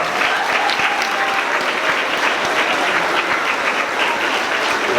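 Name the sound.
audience applause for fifth grade students at a celebration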